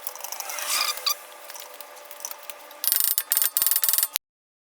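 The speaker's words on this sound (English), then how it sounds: "I'm actually going to go and get my jack and try to raise it up a little bit." A car jack raises the front rotor of a Porsche 987 Cayman with a series of quick clicking ratchet strokes, close and loud, coming in short bursts after a stretch of softer mechanical noise before cutting to silence.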